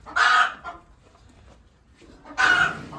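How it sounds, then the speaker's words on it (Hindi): A hen moved off her eggs gives two loud, close bursts of agitated clucking, separated by a quieter pause with faint low murmurs. "देखो मुर्गी को अंडे पे बैठी थी ना, तो उसको इधर बिठा दिया है इसीलिए आवाज लगा रही है"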